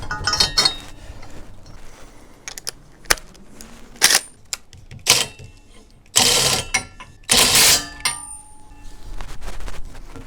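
An Outfitr/Young 2-bike hitch rack for e-bikes wobbles in its hitch without a threaded pin, giving irregular metallic clanks, clinks and rattles in close, loud bursts separated by short quieter gaps.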